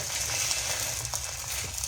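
Egg omelette sizzling steadily in a hot pan after being flipped, a continuous soft frying hiss with faint crackles, close and alone.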